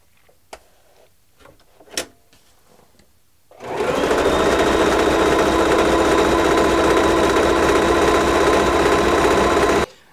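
A Pfaff 160S sewing machine starts after a few faint clicks and runs a test stitch at a steady, loud, continuous pace for about six seconds, then stops.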